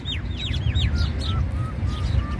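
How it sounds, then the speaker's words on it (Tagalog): Many birds chirp and twitter at once in a park, quick repeated calls rising and falling over a steady outdoor rumble, with no one speaking. "Grabe ang daming ibon,"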